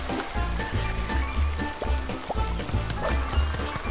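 Fried chicken sizzles in a frying pan in the cooking video game Overcooked 2, a steady crackling hiss mixed with rhythmic game music.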